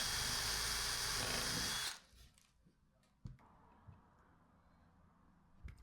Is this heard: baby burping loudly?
no